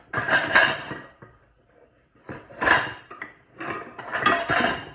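Amway pots, pans and lids are handled at an estate sale, with bursts of metallic clanks and scraping heard up close, coming in uneven clusters separated by short quiet gaps.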